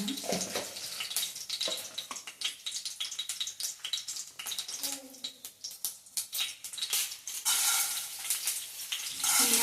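Mustard seeds and cumin sizzle in hot oil for a tempering, a close, uneven crackle with sharp pops and watery hissing bursts that rise and fall.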